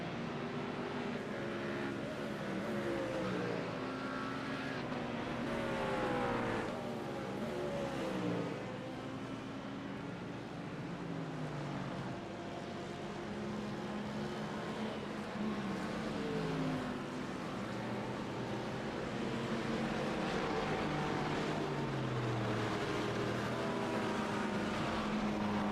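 Race cars with droning, shifting engine notes pass continuously at the 24 Hours of Zolder endurance race, the sound steady and fairly close as cars enter pit lane, with no talk.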